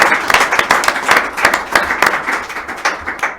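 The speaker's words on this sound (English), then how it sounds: "Let's have a round of applause." A small audience at a local song swap claps for the featured artist, brisk individual hand claps clearly audible in a lively rhythm, close and fairly loud from start to finish.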